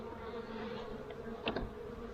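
Close, steady buzzing of many honeybees at an open hive during a spring inspection, a low droning hum with a brief louder burst midway.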